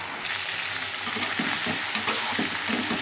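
Vegetables lightly frying in oil in a kadai while being cooked for a curry; a steady, close hiss and sizzle with occasional stirring pulses running continuously, no talking.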